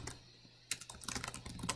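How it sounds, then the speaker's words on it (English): Rapid clicking of keys on a computer keyboard after a brief quiet start, steady and close, with no voices. "I could go ahead and just start typing in my name"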